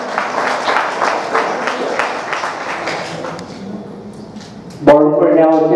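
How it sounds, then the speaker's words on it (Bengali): Applause from a gathering welcoming an SDPO guest with a bouquet at a Netaji birth-anniversary rally in Katwa, steady crowd clapping for several seconds, then fading as a voice and a sustained tonal sound take over near the end. "একটু জোরে হাততালি হোক"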